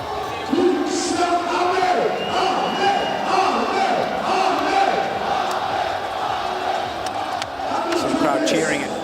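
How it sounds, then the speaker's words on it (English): A large arena crowd at a 2019 boxing match between Amir Khan and Billy Dib cheers and roars loudly and steadily, with shouts and whoops rising out of the dense, continuous noise. "Crowd cheering and satisfied, very satisfied with the performance by Amir Khan."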